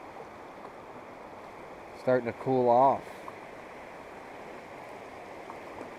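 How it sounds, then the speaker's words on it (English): Steady rush of the Bullpasture River flowing on a warm evening, a constant close wash of water with someone speaking briefly over it. "This is the Bullpasture River."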